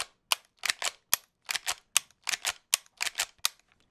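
Rapid rifle shots fired one after another at a watermelon-sized target 50 yards away, about fifteen sharp cracks in quick irregular pairs and singles, loud and close with no talking.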